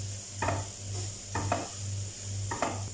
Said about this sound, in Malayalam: മഞ്ഞൾ, ജീരകം ചേർത്ത് അരച്ച അരപ്പ് ഇട്ട് കൊടുക്കുന്നു. അരപ്പിട്ടിട്ട് 2 മിനിറ്റ് ഇങ്ങനെ ഫ്രൈ ചെയ്യണം.